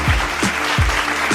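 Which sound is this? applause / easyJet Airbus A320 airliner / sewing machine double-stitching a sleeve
applause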